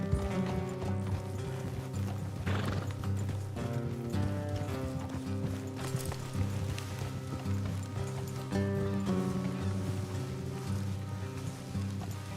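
Horses' hooves clip-clopping along a road in the video game Red Dead Redemption 2, a steady rhythmic patter at moderate distance under a continuous musical score, with no speech.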